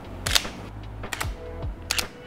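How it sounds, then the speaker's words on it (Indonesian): Shutter of a Sony full-frame camera, the A7 III or A7C, fires three times in a row, each a sharp two-part mechanical click, close and fairly loud with quiet gaps between. "Untuk suara shutter, karena emang tipe shutter dua kamera ini berbeda"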